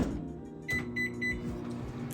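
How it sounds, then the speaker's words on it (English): Microwave oven running with plant-based pad see ew noodles inside, a low steady hum with a few faint high beeps partway through. "Alright, it has come out of the microwave and these noodles are glistening."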